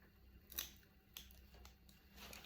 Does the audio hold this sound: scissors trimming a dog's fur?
yes